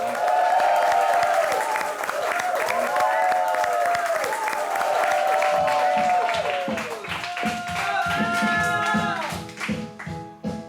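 Audience applause for a singer, steady clapping and crowd noise under sustained music-like tones, growing into rhythmic claps near the end, with voices talking over it.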